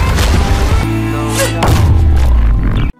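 A deep explosive boom bursts from a bubble attack in an animated fantasy battle, with thudding low-end impacts layered over dense, swelling effects that end in sudden silence.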